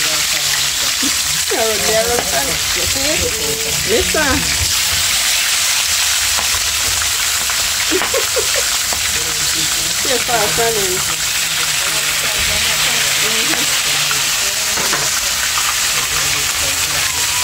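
Lobster deep frying in hot oil gives a continuous loud sizzle and bubbling, while people talk over it throughout.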